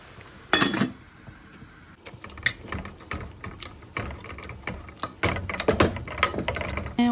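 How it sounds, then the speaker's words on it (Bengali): A hand masher works softened dried fish paste in a pot, giving a steady run of irregular squelching taps and clatter that grows busier and louder toward the end. "এখন একটা মেশারের সাহায্যে দিয়ে মেশ করে নেব"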